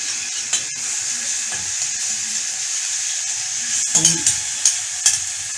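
Garlic frying in a pan for moussaka: a steady bright sizzle close up, broken by several clinks and scrapes of a utensil stirring toward the end, with no speech.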